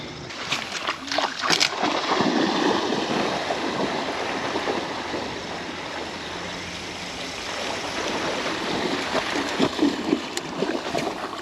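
A little waterfall where a river cuts a hole under the bank at a bass fishing spot on the Tallapoosa River in Georgia, giving a steady rushing, splashing wash of water that stays fairly loud and continuous throughout.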